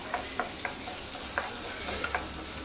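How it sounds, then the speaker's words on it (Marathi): Green chilies stir-fry in a pan with onion, giving a steady sizzle punctuated by a handful of sharp spatula taps and scrapes at uneven intervals. "अशें ताका मिक्स करून स्टर फ्राय करून घेवया"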